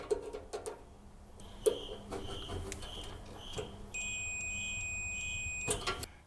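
A multimeter on continuity mode emits a steady electronic beep for about two seconds while probing a clothes dryer's sensor, preceded by a few light clicks and handling noises.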